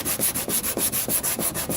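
Sanding the quarter panel of a 2003 Cadillac CTS by hand. A close, rhythmic back-and-forth rasp repeats about every quarter second as steady scrubbing strokes, with no voices.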